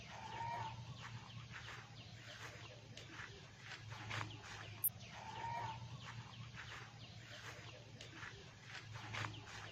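Chickens cluck softly in a farm coop alongside a duck pen, scattered faint clucks over a low background hum, with a brief sharp chirp midway and quiet human voices faintly present.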